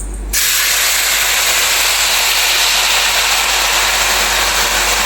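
Melted jaggery syrup poured into a hot pan gives a loud, steady sizzling hiss that starts suddenly and holds unbroken, like rushing steam.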